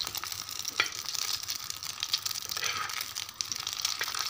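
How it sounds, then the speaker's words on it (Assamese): Night jasmine leaves stirred around in a hot frying pan, a continuous close hissing sizzle with soft scraping and crinkling, no voices. "আৰু এনেকৈয়ে পাতখিলা দি মই ইফালে সিফালে লৰাই"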